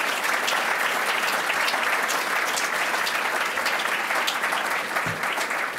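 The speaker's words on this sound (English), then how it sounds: "Let's give them all a rousing round of applause." A rousing round of audience applause at a university lecture hall inaugural lecture, dense, even clapping sustained throughout without voices.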